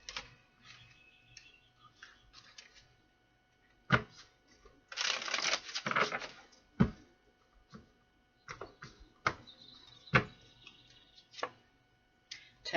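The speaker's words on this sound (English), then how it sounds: "One more shuffle" Tarot cards are shuffled in several bursts of riffling and soft slaps, with sharp taps and clicks between them, close by and without talk.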